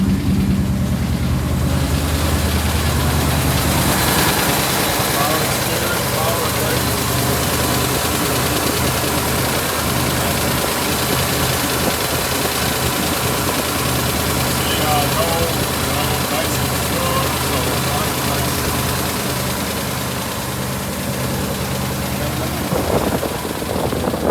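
A 1972 Chevrolet C10 pickup truck engine idles with a steady, rumbling exhaust note throughout, loud and close, with a person talking over it at times.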